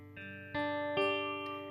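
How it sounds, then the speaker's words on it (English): Three or four notes of an open guitar chord picked one at a time at roughly half-second intervals, each ringing on over the last and slowly fading. "one really good way to see if you're doing a good job of playing the chord is play all the individual notes like this"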